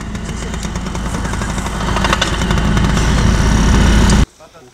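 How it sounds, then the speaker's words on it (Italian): A loud engine runs steadily close by, its rough droning hum building slightly in intensity before cutting off abruptly near the end. "motore è partito."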